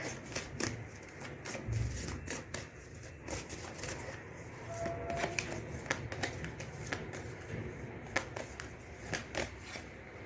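Tarot cards being shuffled during a reading: soft, irregular card flicks and riffles, close and quiet, with light rustling between them.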